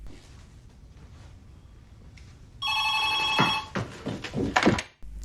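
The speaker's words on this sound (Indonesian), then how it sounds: "Dan telepon pun berbunyi." A telephone bell rings loudly in a couple of bursts after a quiet room hum, followed by a few thumps and clatter as the ringing stops abruptly.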